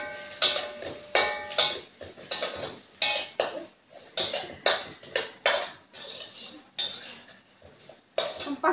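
Whole spices (fennel seeds, star anise, cloves and a cinnamon stick) stir-fried in a pan, with repeated sharp scraping and clattering strokes of a utensil against the metal in an irregular rhythm, close and fairly loud.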